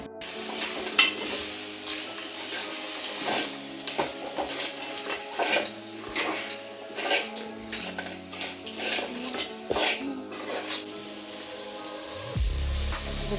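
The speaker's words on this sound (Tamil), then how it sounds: "இது கூட கொஞ்சம் மஞ்சள் சேர்த்து வதக்கிக்கிறேன்." Crab sizzles in a pan with turmeric for a crab gravy, while a spoon stirs and scrapes against the metal in repeated close strokes over a steady frying hiss, with no voices.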